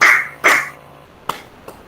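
A group claps hands on count in an online teachers' coaching session. There are two short, sharp claps close together, then two fainter, thinner taps, with no talking.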